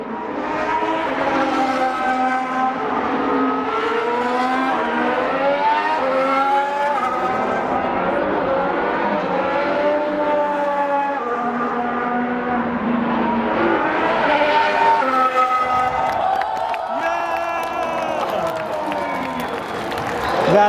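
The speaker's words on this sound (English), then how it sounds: "the F1 cars are back on track for sprint qualifying" Formula 1 cars scream past on a circuit during sprint qualifying, a continuous high-pitched engine wail with rising and falling pitch as cars pass close by, loud and unbroken over faint crowd noise.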